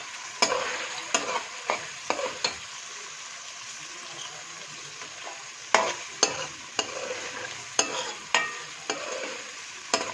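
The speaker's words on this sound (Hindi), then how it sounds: "मैंने 2 अदद प्याज कटे थे, इसमें शामिल कर दिए और इसको हम पका लेंगे प्याज को" Two chopped onions fry in a pan for a potato, pea and egg curry, a soft steady sizzle under repeated sharp spatula scrapes and knocks against the pan at irregular intervals.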